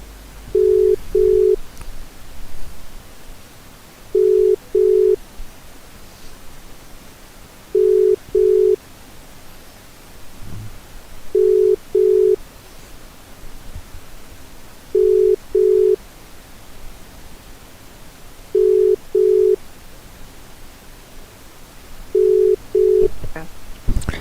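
An outgoing phone call rings back in a regular pattern of paired beeps every few seconds over a steady line hiss, with no talking.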